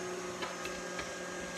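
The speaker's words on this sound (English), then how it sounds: "this large vacuum tank down here is pre-vacuuming" Steady mechanical hum of a large vacuum tank pre-vacuuming on a thermoforming press while plastic heats, with constant tonal drone and faint periodic clicks, heard alone at moderate level.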